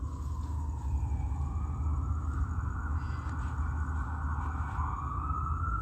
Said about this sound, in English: Amplified sirens, but a method of audible activity.